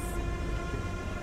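A Kanpur–Kathgodam Garib Rath passenger train arrives at Rampur Junction, heard from onboard as a steady, loud low rumble of the carriage rolling along the rails, with no voices.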